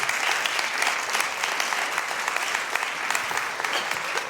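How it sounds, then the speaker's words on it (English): An audience at a talk by a Christian author gives warm, steady applause, a dense mass of many hands clapping with no break for the full few seconds. "Would you just give my wife a warm round of applause, please?"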